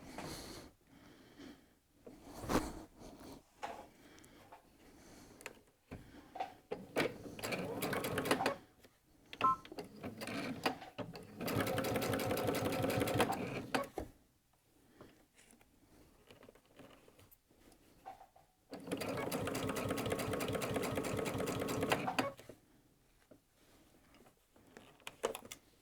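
A sewing machine stitching the shoulder seam of a jacket, with several bursts of fast, even needle whirring, separated by quieter pauses with handling noise.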